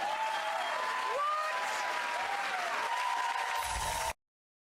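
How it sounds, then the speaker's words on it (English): Studio audience applause rolling steadily for about four seconds, a dense clatter of many hands clapping with faint background voices, then cutting off abruptly into silence. "And they clapped it up."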